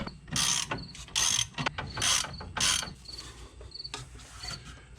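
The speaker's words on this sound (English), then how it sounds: "Now we'll take this socket, the 1/2 inch wrench, tighten up the back." Socket wrench ratchet tightening the rear lug nuts on a car wheel during a rear disc brake job: several bursts of rapid clicking in quick succession, close and fairly loud, with short pauses between strokes and no talk.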